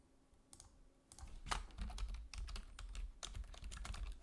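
Typing on a computer keyboard comes as sparse clicks at first, then quickens into a close, steady patter of keystrokes with a few heavier taps.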